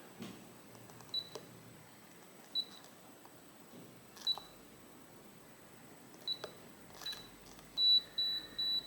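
A Schlage keypad door lock sounds a series of short, high electronic beeps as buttons are pressed, spaced irregularly, then a quicker run of beeps near the end, close and clear over a quiet room hiss.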